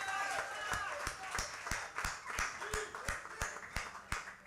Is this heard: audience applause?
yes